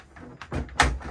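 A caravan fridge door on a Buccaneer Cruiser eased onto its pins to rest ajar, giving a soft plastic knock followed by a sharper clunk, close by, with no talk.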